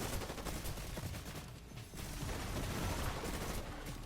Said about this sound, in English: There's also a guy behind me shooting at me as I was running in for this guy.